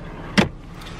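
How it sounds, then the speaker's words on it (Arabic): The central locking on the passenger door of a 2018 Dodge Charger SXT fires once, a single short, sharp clunk close by inside the car, followed by near silence. "سنتر لوك في باب الراكب."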